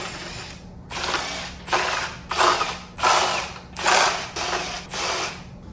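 Ratchet wrench backing out intake manifold bolts from an LS-family V8 engine, about seven quick bursts of close, loud clicking separated by short pauses.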